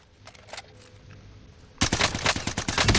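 Gunfire in Call of Duty: Warzone, a few faint shots at first, then a loud rapid burst of automatic fire with sharp repeated cracks filling the last second or so.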